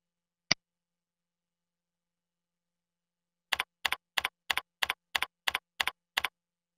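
A single sharp key click, then after a pause a steady run of nine evenly spaced key presses on a computer keyboard as a password is typed, close and clear with no talk.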